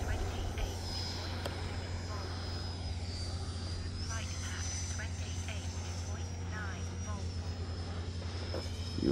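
A Freewing F-16 90mm electric ducted-fan RC jet on an 8S setup flies with a steady, sustained high whine and roar that runs throughout, with faint wind noise.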